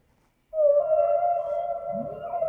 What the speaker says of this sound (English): And you just hear like the whale noise.